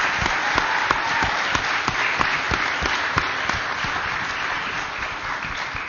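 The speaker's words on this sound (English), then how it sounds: "if you guys could give a round of applause for those guys" A crowd at a CPAC 2021 law enforcement panel applauds sheriff's office and police officers: steady, dense clapping from many hands, close and loud, sustained throughout with a few sharper individual claps.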